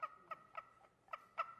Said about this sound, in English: it'll just kind of be little putt calls.